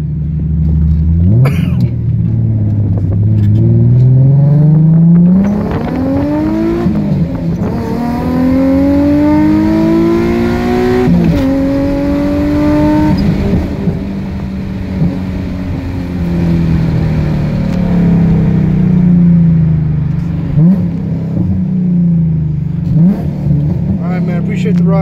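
An Infiniti G35 with a loud exhaust revs hard, its engine climbing and falling in several long pulls over a deep idle rumble, close and loud, with a few sharp pops and people talking over it.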